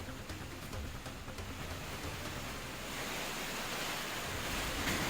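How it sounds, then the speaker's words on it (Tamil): Rushing floodwater pours down Kumbakkarai waterfall in Theni district after heavy rain, a steady, dense, close roar of water that holds constant and swells slightly toward the end, with no voices. "கனமழையின் காரணமாக தேனி மாவட்டம் கும்பக்கரை அருவியில் வெள்ளப்பெருக்கு ஏற்பட்டுள்ளது."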